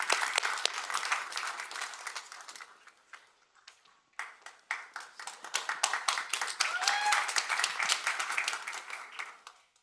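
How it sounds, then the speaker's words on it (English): Scattered audience clapping at an agricultural fair finals, sparse separate claps that thin out into a brief lull before a second, fuller round of applause builds and fades, with some voices underneath. "Big round of applause for Dr. Yaya."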